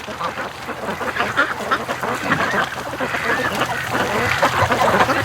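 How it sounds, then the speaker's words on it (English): A group of ducks quacks repeatedly nearby at a creek, overlapping calls rising and falling against outdoor ambience. "the ducks are back to the creek here"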